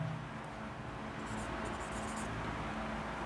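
A pen or chalk scratches out writing during a Class 10 physics lecture on spherical mirrors, brief bursts of faint scratchy strokes over a steady room hum.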